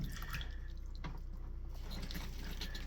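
Water trickles and drips in a travel trailer toilet after flushing, a faint, steady wash of running liquid with no talk.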